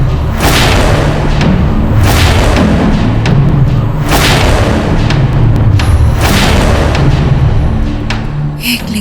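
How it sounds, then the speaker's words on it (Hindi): Cannon fire booms repeatedly in a Mughal-era Hindi TV drama, loud heavy blasts landing roughly every two seconds over a dense rumbling battle din, with no voices standing out. "मुगलों ने तोप क्यों चलाई और किस पे?"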